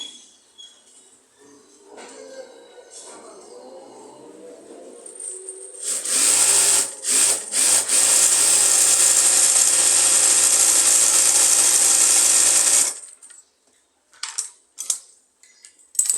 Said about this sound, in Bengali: আমি একটা প্লাজো সেলাই করে দেখাবো